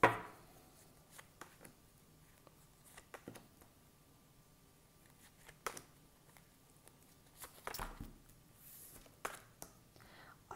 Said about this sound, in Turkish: Şimdi ben kartlarımızı karıştırıyorum